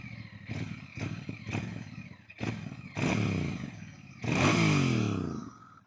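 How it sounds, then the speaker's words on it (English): Royal Enfield Bear 650 motorcycle on its stock exhaust, revved close up in a series of short blips followed by two longer, louder throttle pulls that rise and fall in pitch. "Pretty damn good for a stock exhaust. That 650 sounds real nice."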